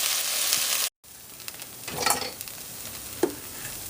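Onions and garlic sizzle and fry in a cast iron Dutch oven, a steady loud hiss with a brief cut, then quieter sizzling with occasional stirring scrapes and clinks.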